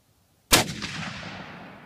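A single rifle shot at an outdoor shooting range: a sudden loud, sharp crack followed by a long rolling echo that fades slowly, with no talking.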